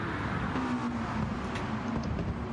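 A McLaren race car's engine drones steadily in a racing game, a continuous mid-distance roar with faint shifts in pitch as it runs on.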